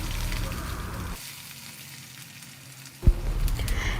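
Chopped onion hitting hot oil with peanuts and mustard seeds for poha upma, a close sizzle that drops away into near quiet, then a sharp clatter and renewed frying crackle.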